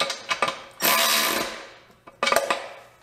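A Milwaukee M12 cordless ratchet whirs in short bursts, a couple of quick clicks and spins, then a longer run of about a second, a pause, and another burst, close and loud with no talking.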